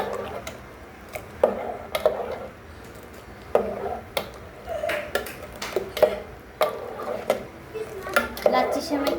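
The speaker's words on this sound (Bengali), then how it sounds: "এখন ভালোভাবে নাড়াচাড়া দিয়ে দিচ্ছি" Whole bay leaf, cinnamon, cardamom and cloves stirred in a pan while cooking lachha semai, with repeated light scrapes and clinks of a spoon against metal in an irregular rhythm, close and moderately quiet.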